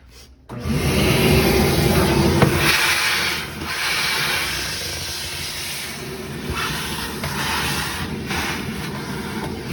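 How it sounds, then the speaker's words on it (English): A vacuum hisses and roars up close, its pitch and loudness shifting as the nozzle sucks up sawdust from a kitchen drawer, with scraping and rubbing against surfaces. "didn't vacuum out the sawdust, so I'm going to go ahead and do that now"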